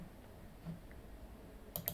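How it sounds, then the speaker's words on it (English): A computer mouse gives two quick, faint clicks near the end, alone against a quiet background hiss. "And in order to do that, I'm just clicking on Add Data."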